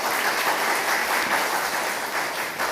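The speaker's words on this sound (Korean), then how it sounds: "우리 할렐루야 찬양대에게 수고했다고 격려의 박수 한번 보내주면" A church congregation claps steadily for the Hallelujah choir after a worship song, a dense, even wash of applause filling the room at full strength for the whole stretch, with no voices over it.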